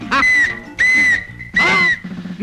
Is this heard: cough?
no